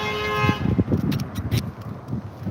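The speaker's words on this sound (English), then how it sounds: "Somebody stopped for me to go by, and they got honked at for stopping for me." A short car horn honk sounds at the start, followed by traffic noise and murmuring voices nearby.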